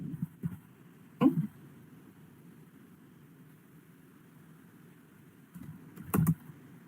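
A few brief bursts of tapping on a computer keyboard, quiet and close, come at the start and again near the end, separated by a long stretch of low hum.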